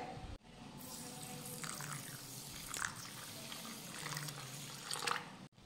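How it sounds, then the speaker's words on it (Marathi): Water is poured from a tap into a bowl of barnyard millet to rinse it, a steady close splashing stream running almost the whole time with brief cut-offs near the start and end. "आता यामध्ये पाणी घालूयात।"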